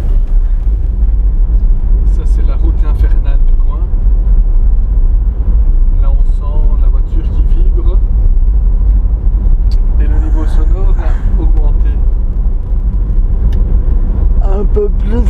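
Road noise inside a Volkswagen Caddy 1.9 TDI on rough, bare concrete paving, a loud, constant low rumble and drone throughout, with a voice talking over it at moments.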